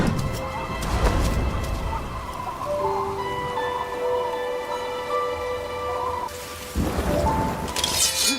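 Heavy rain pours steadily through a windy night, a dense continuous hiss with deeper rumbling gusts, loud and close throughout.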